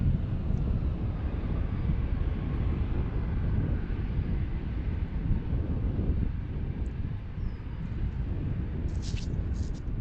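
A fixed-wing airliner landing on the runway at DCA airport, its engine roar a steady, loud broadband rumble under heavy wind buffeting across the whole stretch, with no clear rise or fade.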